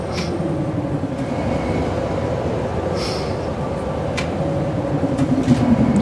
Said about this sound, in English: It's some kind of tram.